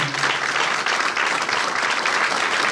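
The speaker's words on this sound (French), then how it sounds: "J'aimerais vous demander d'applaudir très chaleureusement Madame Mireille pour cette initiative" An audience at a charity gala in Brussels breaks into warm applause, a brief, dense burst of clapping that stays steady and close.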